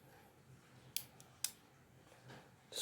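Scissors on a Victorinox SwissTool Spirit MBX multi-tool are handled in a quiet room, giving a few sharp metallic clicks and snips separated by short pauses.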